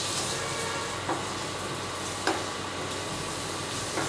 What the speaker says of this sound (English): saute it till it gets a little color